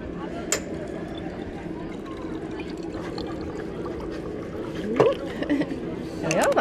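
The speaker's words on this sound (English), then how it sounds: "I'm gonna fill my bottle up anyway." Water runs from a public drinking fountain in Lisbon into a bottle, making a steady, close stream with a few louder splashes and gurgles near the end as the bottle fills.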